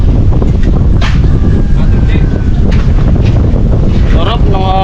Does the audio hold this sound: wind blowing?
yes